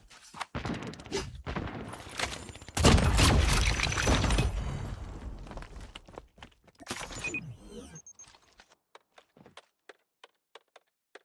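Hip-fire gunfire in the Call of Duty Mobile game, a cluster of loud sharp shots and cracks mixed with game effects, thinning out into isolated clicks near the end.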